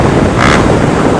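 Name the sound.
Gemoto Racing exhaust on a Honda Fan 150 motorcycle with 4mm kit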